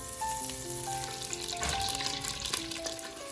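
Chopped garlic and green chilies frying in butter in a heated pot, a close, constant sizzle with a few stirring scrapes, set against soft background music and no talk.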